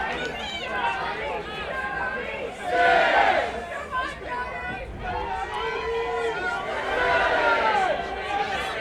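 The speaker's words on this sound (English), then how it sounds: "The crowd willing Jody on." A wrestling crowd cheers on a wrestler in a live match, rising shouts and swelling roars around the three- and seven-second marks over constant murmur, with a commentator talking over it.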